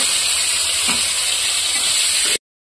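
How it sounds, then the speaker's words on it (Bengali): Bitter gourd fries in hot oil in a wok, giving a loud, steady sizzle and hiss that runs unbroken until it cuts off abruptly near the end, with no voices. "এবার আমি উচ্ছেটাকে ভেজে নেব।"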